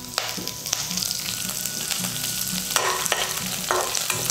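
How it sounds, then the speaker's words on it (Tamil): Raw banana and curry leaves fry in a pan with a loud, continuous sizzle, crossed by clattering stirs and a few sharp scrapes. "இப்போ இது ஃப்ரை ஆகிட்டு இருக்கும்போது"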